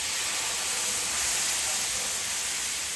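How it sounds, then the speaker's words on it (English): Milk poured into a hot bacon-grease roux for southern milk gravy, a loud, steady broadband sizzle without a break for a few seconds. "Adding that milk in."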